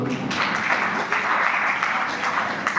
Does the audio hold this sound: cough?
no